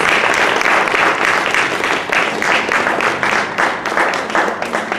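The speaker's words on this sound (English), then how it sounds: "Please give them a big round of applause." A concert audience gives loud, sustained applause for three youth artists, many hands clapping in a thick, continuous roar that holds at full strength throughout.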